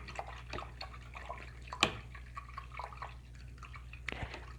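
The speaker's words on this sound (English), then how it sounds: "I'm going to rinse that out of my brush now." An acrylic paintbrush is swished and rinsed in a water cup. It makes soft, close drips and light sloshing with a few sharper taps against the container, over a low steady background hum.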